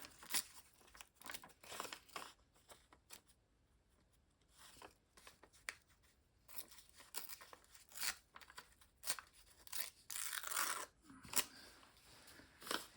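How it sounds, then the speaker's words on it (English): A small bit of collage material, likely paper, being torn by hand: close, repeated crinkling and ripping bursts in an irregular rhythm, with quiet gaps between tears and a longer rip near the end. "So I will tear it."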